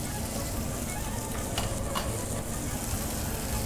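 Carp pieces dredged in flour frying in hot oil for a Romanian carp stew, a steady dense sizzle and crackle throughout, close and even, with no talk.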